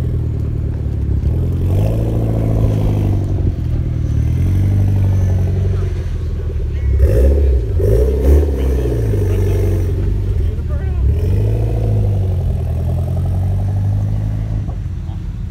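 Modified cars rolling in at a street meet, a loud near engine droning and revving with rising and falling pitch, while people talk over it.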